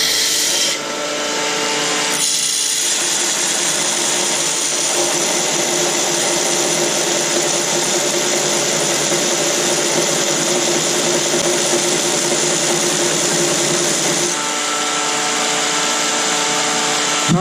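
A homemade horizontal 2x72 belt grinder for knifemaking runs as a finish grinder, giving a loud, steady, raspy whir that starts abruptly, holds evenly for about twelve seconds, then cuts off.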